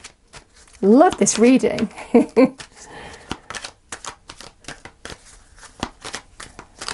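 Tarot cards being shuffled by hand, a quick riffling flutter up close that comes in short bursts with small taps afterward, while someone speaks briefly over the start.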